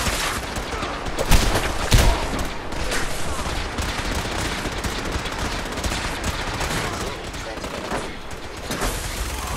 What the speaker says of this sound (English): Give me this. That minigun.